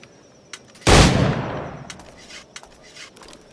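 A firearm gunshot in the Assassin's Creed Black Flag video game: one loud, close, booming blast that rolls off over about a second, followed by faint clicks and small sounds.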